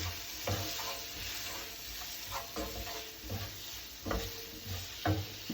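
Tinned tuna frying in oil for a Seychelles-style curry, broken up and stirred with repeated scraping strokes at a loose rhythm over a constant close sizzle, with no talking.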